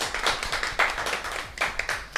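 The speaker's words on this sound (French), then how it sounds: "je pense qu'on peut applaudir la performance tout à fait" A short burst of hand clapping from a small group, brisk and fairly close, fading in and out over a couple of seconds.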